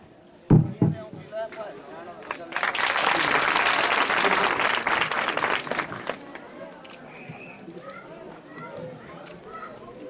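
Loud audience applause at a block-level school sports competition, a burst of clapping rising after a brief sound and sustained for several seconds before fading, with children's voices and crowd chatter in the background.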